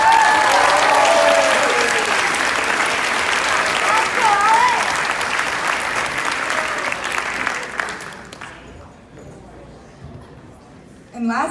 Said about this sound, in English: So a huge round of applause for Alec Alley.